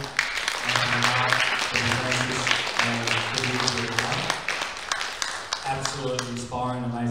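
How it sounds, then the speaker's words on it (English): Audience applause at a mental health and wellbeing forum, clapping for guest speakers, steady and fairly close with a voice speaking over it throughout. "I'd also like you all just to round of applause again for our guest speakers here today."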